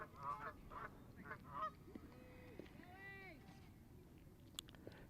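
Geese that have landed on a baseball diamond beside a softball tournament honk repeatedly at a moderate distance, the calls arriving in clustered bursts over steady outdoor ambience.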